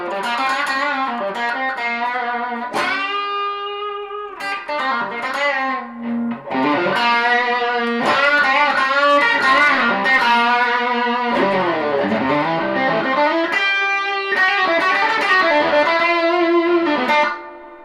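Electric guitar played through a self-built Fender Princeton Reverb amp, picked up by a mic several feet away: loud, slightly driven melodic phrases and sustained chords with bends, in bursts separated by short pauses.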